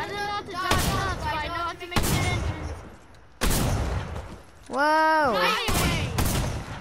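Rapid video game gunfire in repeated loud bursts, with booming volleys close together, while a voice exclaims and talks over the shooting.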